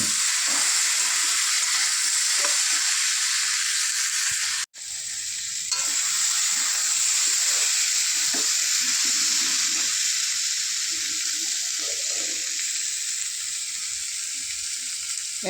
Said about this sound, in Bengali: এবার আর একটু কষাবো